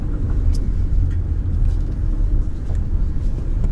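Cabin sound of a Toyota RAV4 hybrid SUV driving in normal mode: a steady low road rumble and muted engine drone at constant level, with no talking.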